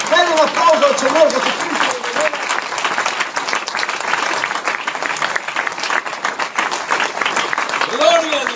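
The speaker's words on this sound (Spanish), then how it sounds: "denle un aplauso al Señor Jesucristo que revela." A church congregation claps loudly and steadily during a Spanish-language evangelical sermon, dense sustained applause throughout, with a voice speaking briefly over it at the start and again at the end.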